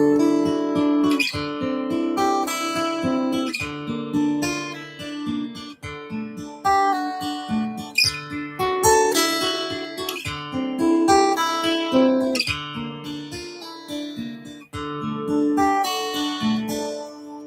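Fingerpicking guitar exercise with pull-offs, a steady flow of plucked notes and ringing bass strings played alone and close for about seventeen seconds.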